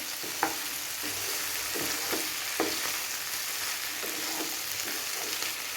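Chicken chukka stir-fried in a pan with coriander, a steady hiss of sizzling broken by occasional sharp scrapes and clinks of a spatula, close and moderately loud with no talking.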